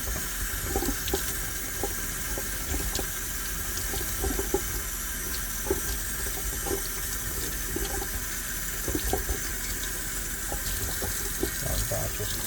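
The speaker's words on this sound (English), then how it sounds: "Rinse the leaves." A kitchen tap runs steadily as cilantro leaves are rinsed for Spanish sofrito, a constant broad hiss of flowing water with faint splashes and soft handling noises throughout.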